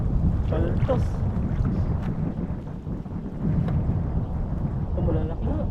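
Strong wind buffets and roars steadily over a small fishing boat at sea, a loud, rumbling gusty rush that never lets up, with faint voices underneath.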